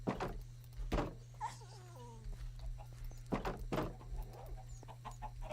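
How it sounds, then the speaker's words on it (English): Minecraft chickens clucking in short repeated bursts, several close calls scattered over a low steady game hum with no talking. "I can efficiently grow an army of chickens."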